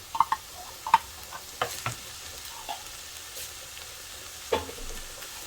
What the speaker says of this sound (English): We continue stirring.